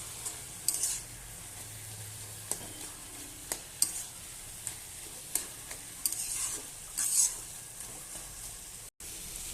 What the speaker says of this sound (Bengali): কাঁচা লঙ্কা দিয়ে দেবো 3টা, দিয়ে ভালোভাবে নাড়বো